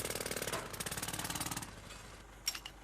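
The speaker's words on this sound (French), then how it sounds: "Le travail au marteau-piqueur génère un niveau de bruit important." A jackhammer pounds in a rapid, steady rhythm, then stops, followed by a couple of faint clanks.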